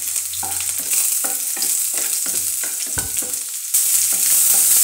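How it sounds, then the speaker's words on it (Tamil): Chopped garlic frying in a hot pan for egg fried rice, a loud continuous sizzle broken by rhythmic scraping stirs, swelling brighter and louder toward the end, with no talking. "இப்போ கொஞ்சம் பூண்டு போட்டுக்கலாம்"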